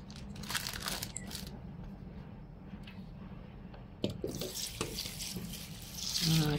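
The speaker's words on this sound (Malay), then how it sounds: "Okay, kita letak dulu air." Water poured from a tap onto rice in a pot to soak for Terengganu nasi dagang, a steady splashing and running flow with some crinkling handling noise, close and continuous.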